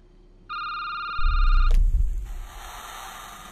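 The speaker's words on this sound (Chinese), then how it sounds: "电话又响了" An electronic telephone ring tone starts abruptly and sounds steadily for about a second, then cuts off with a sharp click as a low rumbling thump and rustling take over.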